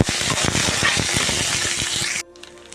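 Tamarind, curry leaves and garlic sizzle loudly in a hot pan, with a steady crackling hiss and small stirring knocks for about two seconds before the frying abruptly quiets.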